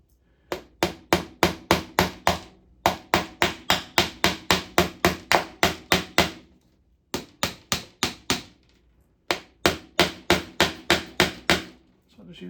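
Pliers used as a hammer tap on a part of a Bally Playboy pinball machine, sharp, close knocks struck in quick runs of about ten with short pauses between bursts.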